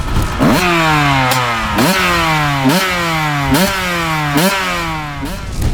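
A 2008 Kawasaki KX125 two-stroke dirt bike engine revs hard and repeatedly, each rising whine snapping back before climbing again, loud and close with no voices.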